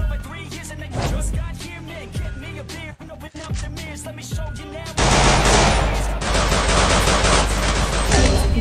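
Gunfire rattles in a shooter video game. Scattered shots come first, then dense rapid bursts that grow louder and continuous through the second half.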